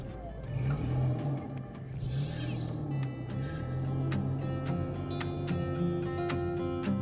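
A car engine hums steadily as the car drives down a mountain road toward Ushguli in Georgia early in the morning, with continuous low drone and road noise and some faint clattering on top throughout.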